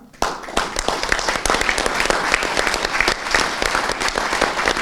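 Loud, dense applause from a theatre audience honouring the director, many hands clapping close and steadily after a sharp start and carrying through to the end.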